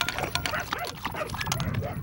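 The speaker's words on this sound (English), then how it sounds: "These dogs are Alaskan Huskies" Alaskan Husky sled dogs make busy dog noise, with yips and whimpering barks layered over a dense, continuous background of activity.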